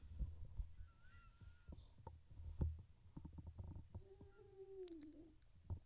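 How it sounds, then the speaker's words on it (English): A human stomach rumbles and gurgles in quiet surroundings, with scattered soft knocks and two drawn-out whining, squeaky groans, faint and close. "That was my stomach."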